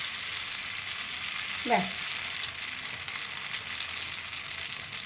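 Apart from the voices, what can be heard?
batter frying in oiled pan on gas stove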